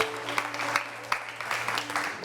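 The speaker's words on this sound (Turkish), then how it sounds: "Alkışlayın." Studio audience clapping on a Turkish television dating show, a short burst of applause over a low steady hum with some voices mixed in.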